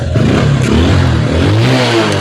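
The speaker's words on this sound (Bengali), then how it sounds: "এখন কিন্তু বাইকের সাউন্ড একটা একটা করে সাউন্ড হবে।" A Bajaj Discover 135 motorcycle engine, freshly tuned up, revs loudly at close range, a rough, throbbing mechanical roar that rises and wavers over a couple of seconds.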